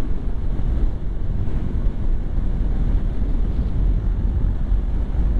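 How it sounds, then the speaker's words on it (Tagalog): Strong wind buffets a helmet microphone on a moving motorcycle, a loud, constant low roar with gusty rumbling that fills the whole stretch with no voices. "O, sobrang lakas ng hangin."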